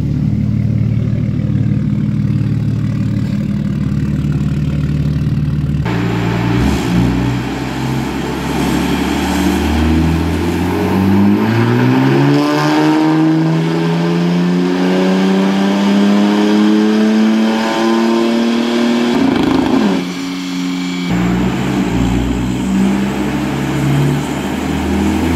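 A BMW 330D car engine revs loudly and steadily climbs in pitch for several seconds, drops briefly, then settles back to a rumbling idle, close and continuous throughout.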